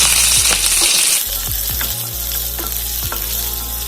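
Shallots sautéing in hot oil in a pan sizzle loudly and steadily up close, broken by several spatula scrapes and stirring knocks, with no voices.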